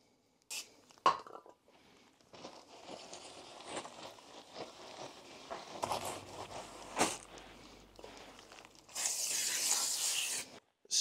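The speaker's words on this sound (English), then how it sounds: "they need thoroughly cleaning with brake cleaner to get rid of the protective wax" Brake cleaner sprayed onto new machined rear brake discs from an Abarth 595 to strip their protective wax: scattered clicks and handling noises, then a loud, sustained close hiss of spray near the end.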